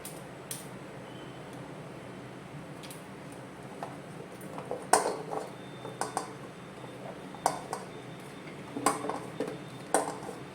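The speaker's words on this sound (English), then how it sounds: "So I'll add in all the vegetables." Okra, brinjal and other vegetables tumbling into a cooking pot for sambhar, a scatter of sharp clinks and knocks against the metal over low kitchen background hum, with no voices.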